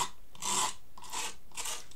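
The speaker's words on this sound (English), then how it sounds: "you can take this free sandpaper you got here" Sandpaper rasps across a skateboard in three slow, even strokes, a close, soft scratchy rubbing with no talk.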